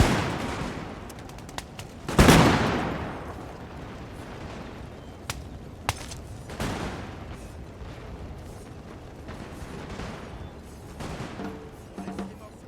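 Musket gunfire rolls across a Napoleon: Total War battlefield, with scattered distant shots and one loud, close volley followed by more sporadic cracks and a rumbling background of battle.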